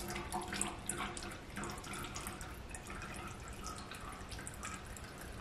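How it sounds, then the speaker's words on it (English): A white water mixture is poured slowly from a cup into baby oil, giving a quiet, continuous trickling and splashing of liquid, faint and close, without talk. "take that cup with their white water mixture and slowly pour it into their baby oil"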